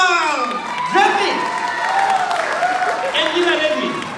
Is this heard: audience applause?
yes